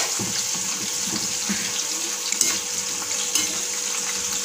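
Green chillies for mirchi bajji fry in hot oil with a steady, close sizzle and hiss, broken by a few sharp pops and crackles, with no talking.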